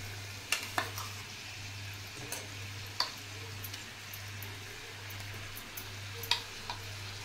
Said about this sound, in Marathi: आता हे वाटण आणि हे सर्व मसाले घातलेले चांगले फ्राय करून घ्यायचे